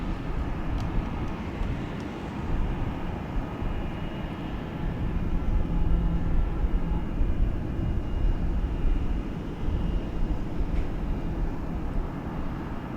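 A Fenix A320 airliner taking off in Microsoft Flight Simulator 2020, a steady loud engine roar with broad rumble building slightly midway, continuous and alone without talk.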